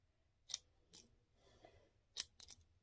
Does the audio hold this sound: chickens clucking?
no